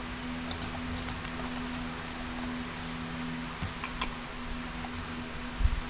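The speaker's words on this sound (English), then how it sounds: "You type into the box" Light, scattered keystrokes tap on a computer keyboard over a steady low hum, with a few sharper clicks near the end.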